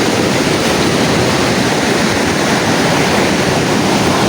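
Ocean waves surging into a sea cave along a rocky coast, a loud continuous roaring wash with wind buffeting the microphone and no distinct breaks.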